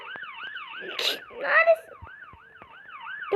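A police siren wails in a fast, repeating up-and-down sweep that stays clear and fairly close the whole time, with brief thumps and noise bursts mixed in.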